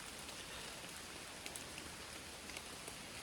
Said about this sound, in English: But already, right now, the rain is very light.